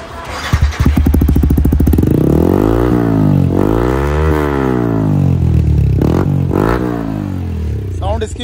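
Yamaha R15 V4 motorcycle with an R1M full-system exhaust revving loudly nearby, a series of rising and falling throttle blips with crackling pops between them, no talk over it.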